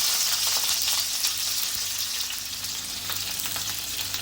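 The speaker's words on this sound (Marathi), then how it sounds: "आणि असे एक एक भेंडी अशी टाकायचे पॅनमध्ये गॅस एकदम मिडियम ठेवायचे आहे" Stuffed okra pieces frying in a pan over a medium gas flame, giving an even, steady hiss of oil that stays close and unbroken, with no speech.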